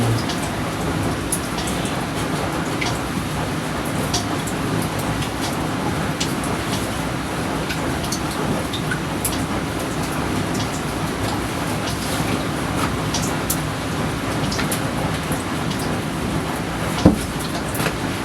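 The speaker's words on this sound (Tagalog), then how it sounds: "Ulan." Continuous steady rain, an even hiss with scattered drips and patters, no voices.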